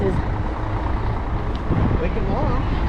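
Buses and heavy traffic rumble along a road on the island of Mykonos, Greece. A low engine drone carries under a brief voice, with a faint hiss like air brakes.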